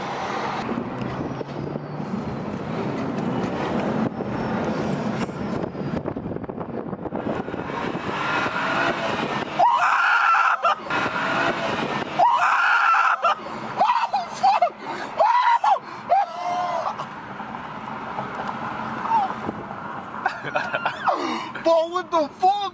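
A BMW 335i with its mid muffler deleted roars loudly in traffic, the exhaust note rising and falling in sharp pulls with crackles near the end, while people talk excitedly over it.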